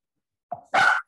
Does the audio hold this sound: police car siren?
no